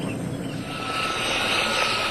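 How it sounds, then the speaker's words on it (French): A French military helicopter flies a reconnaissance mission over Côte d'Ivoire, its engine and rotor making a steady, broad whirring roar that swells slightly louder toward the end, with no voices. "Un hélicoptère français est alors envoyé en reconnaissance."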